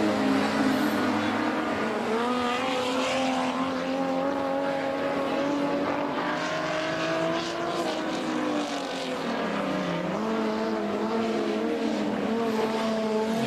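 Stock cars lap an oval track in a race, engines droning loud and continuous with pitch rising and falling as the cars pass, several motors overlapping.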